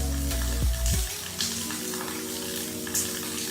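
Masala paste for a bhindi (okra) palya frying in a hot pan, water splashing in with a burst of loud sizzling that settles into a steady crackling fry, no voices.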